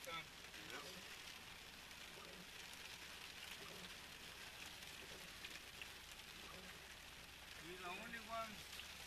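Monsoon rain in Benson, Arizona, pattering steadily on a vehicle while driving around, a soft continuous patter with faint voices and occasional higher-pitched sounds.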